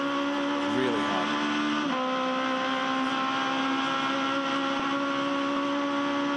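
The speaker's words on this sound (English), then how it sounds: "The little cars, and they're being driven really hard." Aussie Racing Cars driven hard at the Gold Coast in 2013 give a continuous high engine whine with one quick shift in pitch, a steady, fairly distant race-car drone.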